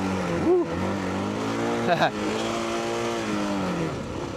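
A Honda XR650L retro rally motorcycle ridden off road, its engine droning steadily with pitch rising and falling through gear changes, loud and close, with a short surge near the middle and a person talking over it.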